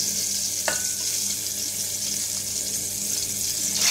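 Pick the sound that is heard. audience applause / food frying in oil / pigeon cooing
food frying in oil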